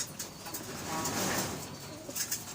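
Racing pigeons, a loft of young birds, coo softly and continuously, with a steady background hum and a few brief brighter calls near the end.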